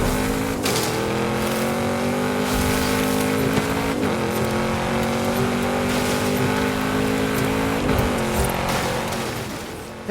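A car engine drones and revs steadily in a video game, loud and sustained for about ten seconds with brief shifts in pitch as it drives.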